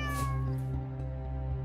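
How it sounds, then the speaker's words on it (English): A cat meows inside a cluttered two-bedroom flat where six cats live, one drawn-out meow near the start over a steady low electrical hum, fairly faint and alone. "Unbeknown to Ryan, 6 cats have been living in his 2-bed flat."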